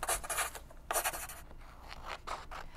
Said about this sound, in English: So the first thing we're going to do, we're going to cut out the templates.